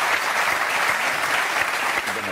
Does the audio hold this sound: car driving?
no